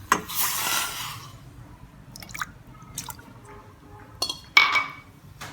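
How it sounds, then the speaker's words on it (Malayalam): Water is poured over sugar in a pan on the stove, a short liquid splash at first followed by scattered faint drips and small clinks. "ഇതേ അളവിൽ നമുക്ക് വെള്ളവും ഒഴിച്ച് കൊടുക്കാം"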